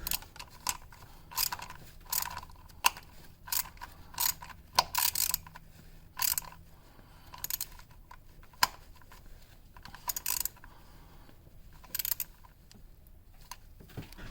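Hand ratchet tightening a bracket bolt near the upper intake of a Pontiac Fiero engine, quick bursts of crisp clicking repeated in short runs with quiet gaps, fairly faint and close.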